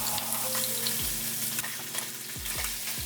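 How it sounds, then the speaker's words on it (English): Braciole meat sears in a preheated pan with a steady close sizzle and frying crackle, broken by a few scraping stirs. "you want to get that nice sizzle and sear"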